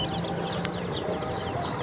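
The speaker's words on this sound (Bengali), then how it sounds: "এই ব্ল্যাক হোল হাঁসের বাচ্চাগুলো সরকারি খামারের হাঁসের বাচ্চা" Black hole breed ducklings from a government farm peep and chirp in a busy, continuous chorus, with thin high calls layered over steady background noise throughout.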